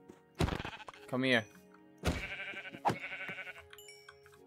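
Sheep in Minecraft bleat twice in short wavering calls, close and clear, amid game sounds, while someone speaks briefly between them.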